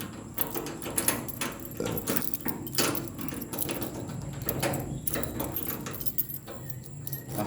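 A bunch of keys jangles and clinks in uneven bursts at close range while someone works at unlocking something, with no talk.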